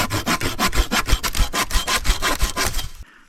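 A hand saw cutting through wood for outdoor steps, loud close strokes in an even back-and-forth rhythm of about a dozen passes, ending abruptly.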